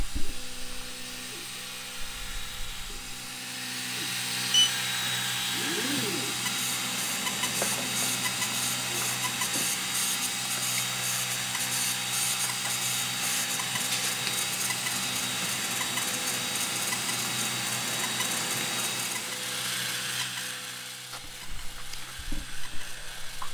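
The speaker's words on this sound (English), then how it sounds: "The laser is going to go home to calibrate, and then it's going to do its little dance around the outer perimeter of your workpiece." A Creality Falcon 22W laser engraver homes and then traces the frame around a leather workpiece, a steady faint motor hum and hiss running throughout with a few brief stepper whirs, no talking.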